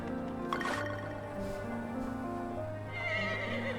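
A horse in the Grand Bazaar farming video game neighs in a drawn-out whinny over a soft background music loop, with faint hoof clip-clops and no speech.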